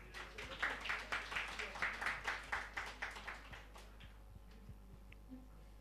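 An audience claps for two speakers at a design talk, a brisk run of hand claps that thins out and fades to near silence after about four seconds.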